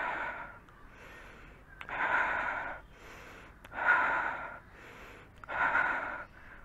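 Slow, deep breaths during a yoga hold, each long inhale and exhale rising and falling in a steady rhythm of about six cycles, close and fairly soft, with no talking.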